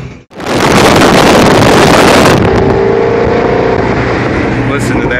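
Loud engine roar of a stock 2017 Ford Mustang Shelby GT350 with a 5.2-liter engine, heard from inside during a ride, a hard full-throttle pull that drops to a steadier drone, with heavy wind rush.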